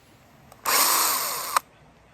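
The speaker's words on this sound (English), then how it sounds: "The mini chainsaw's back in action." A mini chainsaw cuts back an elder tree in a garden, one loud close burst of high whining motor lasting about a second, starting abruptly and cutting off with a brief clack.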